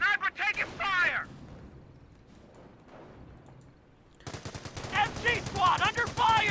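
Bursts of machine gun fire in the World War II strategy game Company of Heroes: rapid, loud rattling volleys at the start and again at the end, with a quieter gap of distant battle noise in between.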